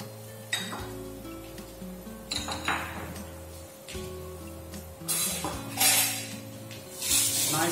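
Garlic sautéing in a pan while cooking a vegetable au gratin: scattered clinks and scrapes of a utensil stirring against the pan, with a soft sizzle swelling in short bursts over a steady background hum.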